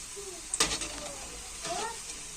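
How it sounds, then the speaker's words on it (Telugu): Curry leaves fry in hot oil in a home kitchen, giving a soft, steady sizzle with a couple of brief stirring clatters and faint speech underneath. "అదే ఆయిల్లో కొంచెం కరివేపాకు అయితే ఇట్లా వేడి చేసుకుంటున్నా"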